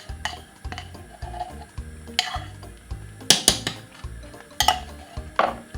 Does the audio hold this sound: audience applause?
no